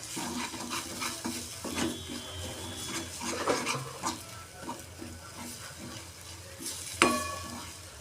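Peas with finely grated coconut and almonds are stirred and sautéed in a pan for a sweet pea kheer, giving a steady low sizzle with soft, repeated scraping strokes and a sharp metallic clink near the end, with no talking.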